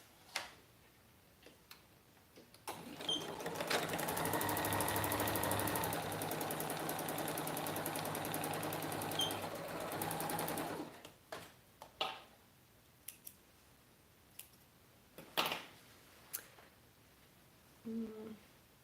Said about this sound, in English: So now sewing with a larger seam allowance.